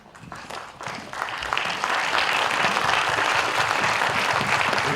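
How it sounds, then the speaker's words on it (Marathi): An audience at the Raja Shivaji film trailer launch breaks into loud, sustained applause, building within the first two seconds into a dense wash of clapping that fills the room. "सरांसाठी एक जोरदार टाळ्या."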